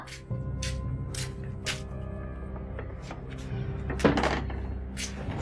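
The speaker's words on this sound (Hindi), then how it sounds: "दरवाजा तोड़ना है क्या?" Loud banging on a door, a run of sharp thuds with a heavier blow near the end, heard over a steady low hum.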